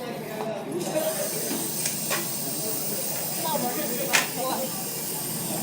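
A Dr Pepper can, cracked open by a fast-spinning fidget spinner, sprays with a steady hiss, joined by a few sharp ticks and clatters and people talking nearby.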